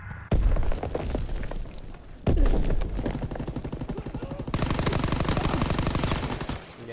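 Rapid bursts of automatic gunfire in a first-person shooter video game, loud and continuous with dense repeating shots, a heavy thump near the start and another midway, then a faster, steadier stream of fire.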